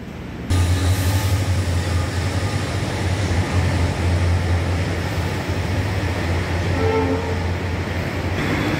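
A Pune Metro train rumbles loudly past at Khadki station, a steady low roar and hum that starts abruptly and holds for several seconds without talk.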